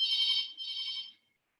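A phone ringtone rings in two bursts, a long tone then a second one, loud and alone during a classroom-style knowledge talk, cutting off abruptly.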